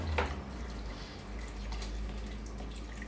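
Water is poured into a pot while a curry is being cooked, heard as a soft, fairly quiet splash near the start, followed by low trickling and faint clinks over a steady hum.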